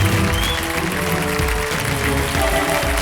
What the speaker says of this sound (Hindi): जोरदार तालियों के साथ मैं चाहता हूं देवी सज्जनों उनका स्वागत किया जाए